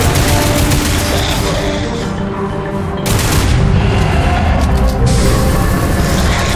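A grenade blast in the video game Lost Planet 3, fired back at the player by a Suwankaa mini-boss, erupting as a loud, dense boom around the three-second mark amid continuous roaring gunfire and combat rumble.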